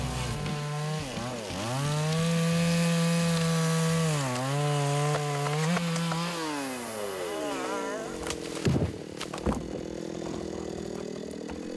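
A chainsaw fells a roughly 30-metre tree in a forest logging job, its engine close and loud, revving and dropping in pitch in long surges before settling into rougher, broken cutting noise.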